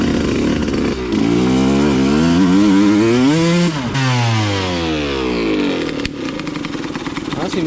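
Suzuki RM125 two-stroke dirt bike engine revving up and dropping back several times, a close, loud, buzzy wail with rising and falling pitch.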